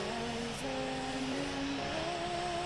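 A Japan Airlines Boeing 787 taxiing to parking in the Infinite Flight simulator, a steady, droning jet engine whine with faint tonal shifts, continuous and even throughout.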